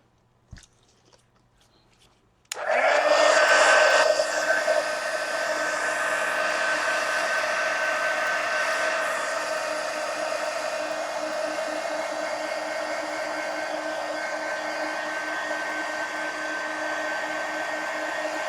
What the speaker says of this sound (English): So let me hit it with the heat gun again.